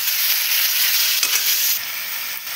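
Potato and cauliflower frying in a pan for a masala curry produce a loud, close, bright sizzle with a quick stir near the middle, and the hiss dies down a little toward the end.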